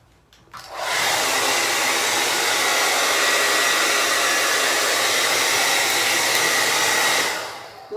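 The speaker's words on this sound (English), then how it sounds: "when you're blow drying, your hair tends to get frizzy, on your blow dryer, usually there is a cool button." A handheld hair dryer blows steadily as long hair is dried, switching on after a brief quiet moment and holding a loud, close, continuous rushing whoosh for several seconds before cutting off.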